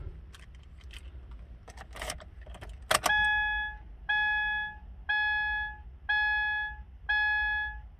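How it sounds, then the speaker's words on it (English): Keys to a green Subaru Impreza jangle and clink close by, followed by a regular series of five electronic beeps from the car, one about every second. "We have two keys, one with lock and lock buttons and one valet"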